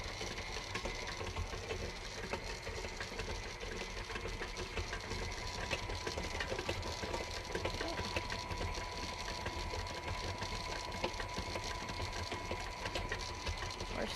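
An electric mixer beats shortbread dough in a bowl, giving a steady, whirring motor drone with a fast mechanical rattle. The sound stays close and even the whole way through, and nobody speaks.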